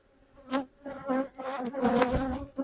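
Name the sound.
honey bees buzzing around an open hive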